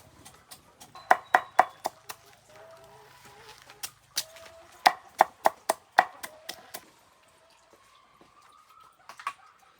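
Food being chopped for chickens on a farm, sharp cleaver strikes landing close and loud in quick bursts separated by short pauses, then tapering off to a few last chops.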